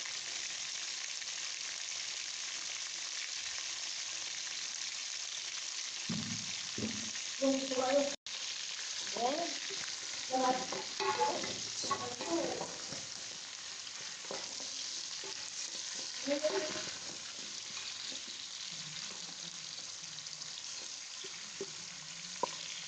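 Hard carrot pieces frying in a hot pan, a steady close sizzle with scraping stirs and clinks of a utensil through the middle stretch.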